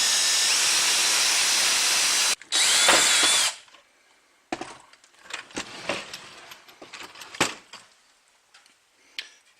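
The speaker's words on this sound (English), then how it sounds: "Now I'm going to drill this one. So all you have to do is get your drill," A power drill with a 1/4 inch bit bores a hole through a raft's outboard motor mount for a Hangkai 3.6 hp motor. A loud, continuous whine lasts a few seconds, then stops, followed by scattered clunks and handling clatter.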